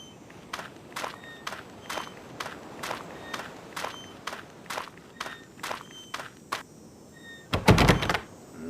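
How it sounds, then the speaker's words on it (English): Repeated knocks or rattles at a door that will not open, about a dozen evenly spaced thuds, moderately close, followed by a louder burst of rattling near the end, with no talk. "The door, it will not budge."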